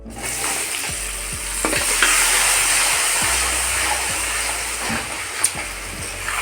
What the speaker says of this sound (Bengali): এবার আমি হলুদ দিয়ে দিচ্ছি বন্ধুরা এবার সবজিগুলো দিয়ে দেবো